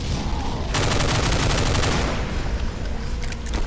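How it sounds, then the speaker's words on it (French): A grenade attack in Brutal Doom, the classic shooter mod, with loud rapid explosive bursts and gunfire crackling densely for several seconds, then thinning out; no speech. "On va y aller à la grenade un petit coup là."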